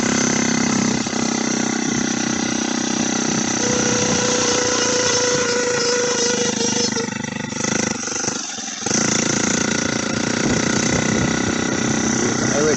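An untuned turbocharged engine on a turbo build warms up and revs, with a loud, steady, close engine drone that dips briefly near the end, while people talk over it.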